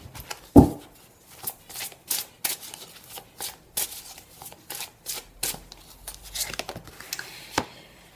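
Message cards are shuffled and drawn for a weekend reading, giving a string of crisp slaps and flicks at an irregular pace with a sharper knock near the start.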